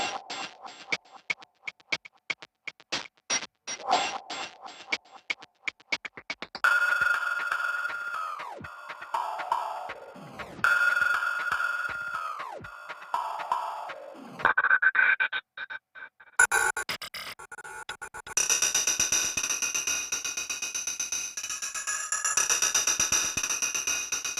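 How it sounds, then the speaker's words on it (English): Heavily processed hi-hat style percussion loops from a hybrid sample library play as crisp, rhythmic high ticks and hisses, shifting through several distinct loud patterns with no talking. "these are the high, more like the hi-hat type sounds. Everything's heavily processed to give it,"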